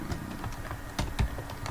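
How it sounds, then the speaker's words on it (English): Fingers type on a computer keyboard, a close run of light, irregular key clicks with a couple of slightly heavier strokes, alone with no talk. "I told you what I've been typing."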